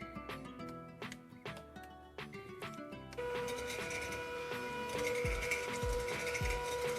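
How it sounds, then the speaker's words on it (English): Some mechanical clicking and rattling comes first, then an electric hand mixer starts beating granulated sugar with a steady, close motor whir that runs to the end. "We're gonna beat this with my hand mixer."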